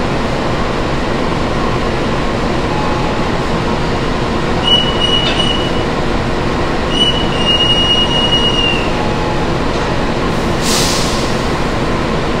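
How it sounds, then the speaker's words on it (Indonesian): A CC 206 diesel locomotive couples to the Kamandaka passenger train at Semarang station, with a constant loud engine rumble, brief metallic squeals and clanks, and a hissing air burst near the end. "Sedang dilakukan proses penyambungan lokomotif dinas CC 206-1366 Depo Semarang Poncol ke rangkaian Kamandaka."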